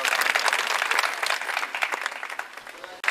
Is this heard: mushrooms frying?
no